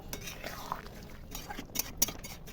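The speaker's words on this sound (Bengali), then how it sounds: "এবার আমি নাড়িয়ে চাড়িয়ে দেব" A spoon stirs milk and sugar into shukto in a pan, soft scraping and light clinks against the metal, faint and close with low background noise.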